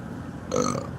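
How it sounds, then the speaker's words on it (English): A single loud burp from a man relaxing outdoors while smoking cigars, lasting about half a second and standing out clearly against quiet background noise. "Burp God."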